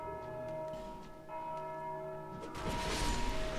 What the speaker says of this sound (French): Merde c'était une cloche, je crois que c'était un spawner.